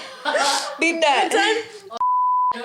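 A flat, steady censor beep cuts in for about half a second after lively speech and laughter, loud and clean, then talking resumes.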